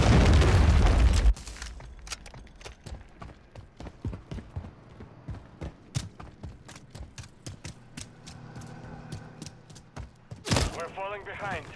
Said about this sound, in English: Hostiles launched the cruise missile.